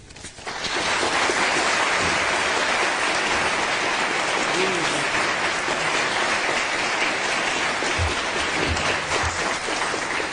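Sustained audience applause fills a university hall at Columbia University in New York as a visiting speaker is welcomed to the podium, a dense steady clatter of many hands rising quickly and holding loud throughout.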